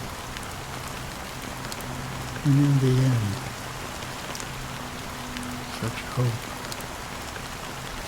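Steady rain falls without a break in Honkai Star Rail, a soft wash of drops that stays constant while a voice speaks over part of it.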